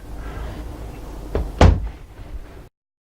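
A cabinet door in a 2013 Sprinter 316 travel trailer swings and latches shut with one solid, close thunk, a small knock just before it, then quiet handling noise.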